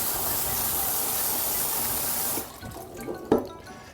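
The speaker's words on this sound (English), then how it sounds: "we still want to rinse off any excess starches that may have formed on here to keep it from further sticking" Gluten-free fusilli pasta is rinsed in a kitchen sink under a steady, loud rush of tap water. After about two and a half seconds the flow stops, leaving a few soft drips and a small knock of handling.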